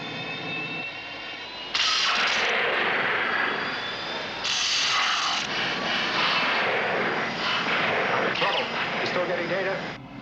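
A spacecraft engine from Space 1999 roars loudly as the craft climbs, a harsh broadband blast that swells in stages with whining tones over a continuous rumble, alongside voices speaking.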